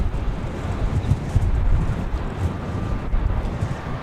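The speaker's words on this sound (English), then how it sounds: "That wind is no joke this evening." Strong evening wind buffets the microphone at an airport, a dense, steady low rumble with gusty swells and no distinct other sounds, close and fairly loud.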